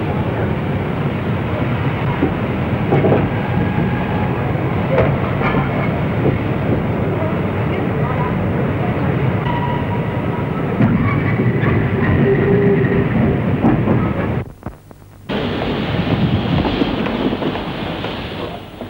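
An LMS steam locomotive, the Coronation Scot, running on rails with a loud continuous rumble and rushing wind from the footplate, briefly dropping away for a moment before resuming.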